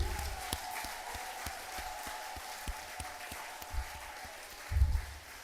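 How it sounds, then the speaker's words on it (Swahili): A church congregation claps for Jesus during a Swahili consecration prayer service: soft, distant crowd clapping with scattered sharper claps over a background hum, plus a couple of low thumps. "Lakini Yesu wetu tumpigie makofi ya pale juu."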